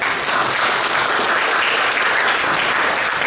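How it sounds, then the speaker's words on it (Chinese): Sustained applause from an audience at the opening ceremony of an art retrospective exhibition, a dense, even wash of many hands clapping throughout with no speech over it. "我们给教育世家掌声好吗？"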